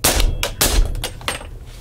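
Two quick shots from a Mos-Tek 300 Blackout pistol with a 4.75-inch barrel firing subsonic rounds, each a sharp crack with a short ringing decay, followed by fainter clanking.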